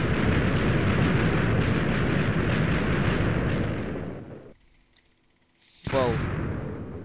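A video game explosion on a laggy multiplayer server: a loud, dense roaring blast sustained for about four seconds, fading into near silence, then a second sharp burst at the end.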